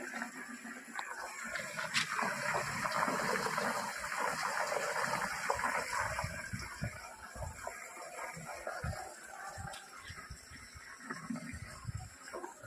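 Steady, rushing gush of water deep inside a borewell just after flushing. A continuous hollow roar runs throughout with no voices over it.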